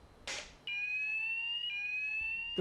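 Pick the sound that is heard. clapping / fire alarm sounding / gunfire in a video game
fire alarm sounding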